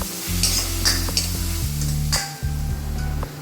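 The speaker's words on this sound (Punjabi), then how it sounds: "ਪਿਆਜ਼ ਨੂੰ ਪਹਿਲਾਂ ਚੰਗੀ ਤਰ੍ਹਾਂ ਆਪਾਂ ਭੁੰਨਾਂਗੇ" Onion frying in a pan for pumpkin sabzi, a loud close sizzle with a low steady hum beneath and sharp stirring scrapes and clinks at intervals.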